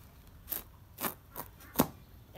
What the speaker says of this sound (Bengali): এখন আমি লাউটা কুটে নিব।